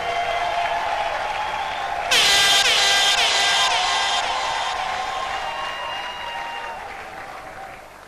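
An audience at a church celebration of a reverend's 70th birthday claps steadily, with a loud air horn blast joining partway through and continuing in pulses while the applause slowly fades.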